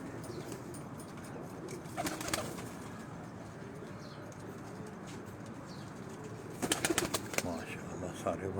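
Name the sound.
pigeons cooing and flapping on a rooftop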